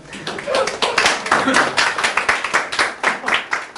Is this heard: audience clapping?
yes